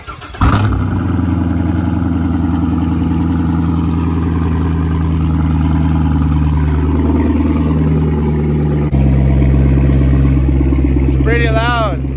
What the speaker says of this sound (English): So I'm about to do a cold start, so it's going to be pretty loud.